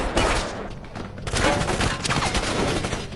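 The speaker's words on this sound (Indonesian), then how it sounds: "Cholyong tertembak, bahkan Gisong tega menghabisi anak buahnya sendiri." Rapid bursts of gunfire fill a scene from a Korean-Indonesian action film, dense and loud throughout, with a short lull near the middle before the volleys resume.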